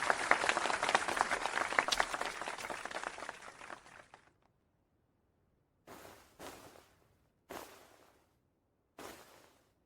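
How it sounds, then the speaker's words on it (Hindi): Applause for a dance performance starts as a loud burst of many hands and fades out over about four seconds, then after a silent gap a few short isolated bursts of clapping follow. "तुम क्यों ताली बजा रहे हो?"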